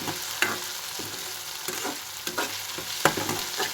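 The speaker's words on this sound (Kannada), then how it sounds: "ಇಲ್ಲಿ ನಾನು ಎಣ್ಣೆ ಒಳಗೆ ಉಳ್ಳಾಗಡ್ಡಿ, ಕರಿಬೇವು, ಸಾಸಿವೆ, ಜೀರಿಗೆ ಮತ್ತು ಸ್ವಲ್ಪ ಅಲ್ಲ ಬೆಳ್ಳುಳ್ಳಿ ಪೇಸ್ಟ್ ಹಾಕೇನಿ ರೀ" Onion, curry leaves, mustard seeds, cumin and garlic paste fry in hot oil, giving a steady close sizzle with intermittent stirring scrapes and small pops throughout.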